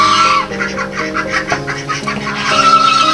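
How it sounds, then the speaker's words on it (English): A goose at a duck pond calls out in loud, close, repeated honking cries with brief pauses between them, alone without any talk. "Leave it to the goose who calls out if anything seems wrong."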